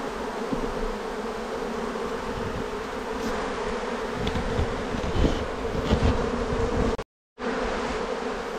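A honeybee swarm in an attic roof space gives a dense, steady buzzing drone, loud and continuous, broken by one brief silent cut near the end.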